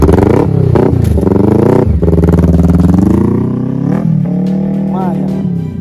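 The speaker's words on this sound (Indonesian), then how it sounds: "Gak usah geber-geberin motor ini" A motorcycle engine revs hard in sharp repeated bursts, rising and falling close by, while people argue loudly over the noise on a street.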